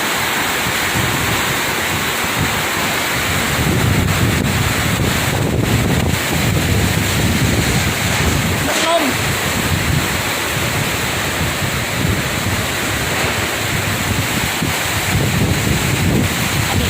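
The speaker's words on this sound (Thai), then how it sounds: "ทั้งลมทั้งฝน" Heavy rain and strong wind: a dense, loud, constant roar of downpour with wind buffeting close to the microphone throughout.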